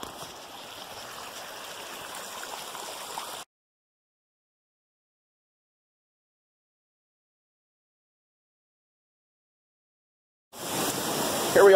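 A stream and waterfall rush in a canyon, heard from above the first waterfall as a steady broadband wash of flowing water that cuts out to silence for several seconds, then returns.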